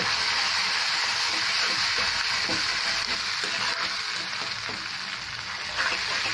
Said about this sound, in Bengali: তাহলে মশলাগুলিকে আমি ভালো করে কষিয়ে নিচ্ছি